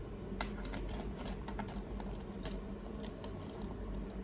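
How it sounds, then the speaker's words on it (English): Metal keys being fitted onto a Keybar key organizer, giving light, scattered metallic clicks and jingles over a low steady background hum, close and fairly quiet. "Now these last two keys go on."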